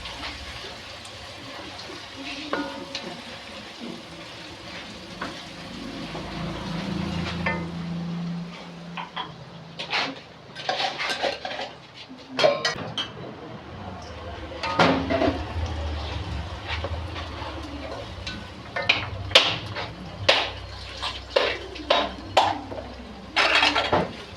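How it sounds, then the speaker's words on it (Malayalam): Sliced large onions are sautéed and stirred in a pan on the stove. A utensil scrapes and clinks against the pan in irregular bursts, louder toward the end, over a low background hiss. "നമുക്ക് ഇനി അങ്ങോട്ട് അത് നല്ലോണം ഒന്ന് വഴറ്റിയെടുക്കാം"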